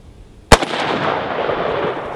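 A single loud gunshot from a short-barreled rifle with a flash compensator cracks sharply after a quiet moment, followed by a long rolling echo that slowly fades.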